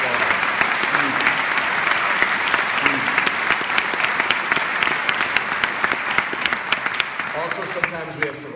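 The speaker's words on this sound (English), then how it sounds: "Can we give all of those folks a big, big round of applause?" Dense audience applause fills a hall at a graduation baccalaureate ceremony, many hands clapping steadily and loudly with sharper individual claps standing out, and a few voices faintly audible beneath toward the end.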